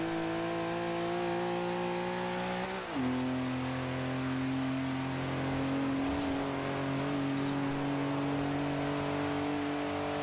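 VW Desert Dingo Racing stock Bug in Forza Horizon 2 with a steady, loud engine drone that drops in pitch at a gear change, then holds a sustained buzzing tone, with nobody speaking.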